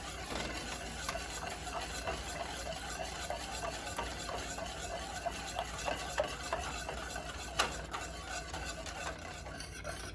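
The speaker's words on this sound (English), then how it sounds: "I'm going to continue to whisk." Plantain porridge with vanilla essence and almond drops being whisked in a pot, a continuous soft, busy scraping and swishing rhythm at moderate closeness with a single sharper clink near the end.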